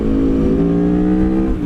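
A 2023 Aprilia Tuono V4 Factory motorcycle revs close by, a loud, sustained, harmonic-rich exhaust roar that holds a steady, slightly rising pitch before easing off at the end.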